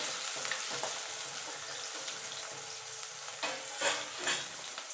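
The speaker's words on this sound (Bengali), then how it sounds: "এবার আলুটাকে আমি একটু লাল লাল করে ভেজে নেব।" Steady sizzling of potatoes frying in a pan, with a few scraping stirs and clatters near the end, no voices.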